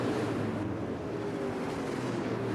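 Dirt late model race cars of the UDTRA Pro Dirt Car Series roar steadily at The Rock in Allegany County, a dense, continuous engine drone with wind buffeting and no pauses throughout.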